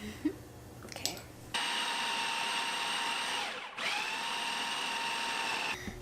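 A food processor pulses pie dough in a kitchen, its motor whirring loudly and steadily for several seconds after a few brief knocks, with a short dip in the middle before running on and cutting off.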